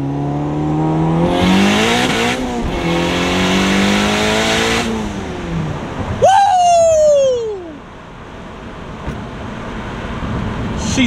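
A turbocharged car engine revs hard and climbs through gears with a rising whine, then a sharp whistling turbo whoosh as it lets off, loud and close.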